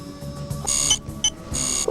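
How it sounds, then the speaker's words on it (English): A Palm Pilot handheld gives out a string of bright electronic alert beeps, repeated in quick pulses over a steady background tone. "I have my Palm Pilot set to beep when my new games come in"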